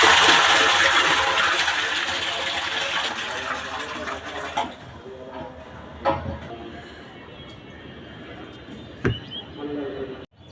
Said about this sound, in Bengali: পানি আসবে, পানি আসছে